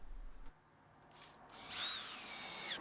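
A power drill drives screws into glued wooden overhangs on a mitre saw station, a short whir followed by a longer rising whine, close and fairly quiet.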